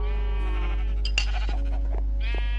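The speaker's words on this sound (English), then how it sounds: "What are you saying, sheep?" Minecraft sheep bleat several times in quick succession, loud and close, with short wavering cries alone against a steady low hum.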